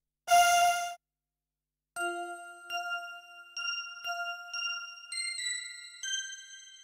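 Old-school bell-type synth tones, layered with a vocal sample: a short, dense harmonic burst, a pause, then a string of about seven clear ringing bell notes stepping upward and overlapping as they decay. No one speaks.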